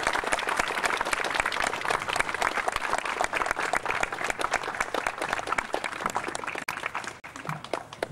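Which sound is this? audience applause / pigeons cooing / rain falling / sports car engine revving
audience applause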